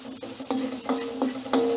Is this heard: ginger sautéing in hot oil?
yes